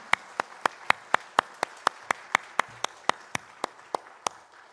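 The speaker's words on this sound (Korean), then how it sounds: "우리 부모님들을 향해서 우리 박수로 한번 고마움을 드리겠습니다." A church congregation claps together in a slow, steady unison rhythm of about sixteen sharp, evenly spaced claps in thanks to their parents during a Sunday service, moderately close and clear over a quiet room.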